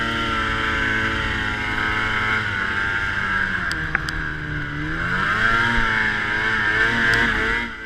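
Snowmobile engine riding on trails, a loud close droning motor that rises and falls in pitch as the throttle changes, continuous throughout with no talk.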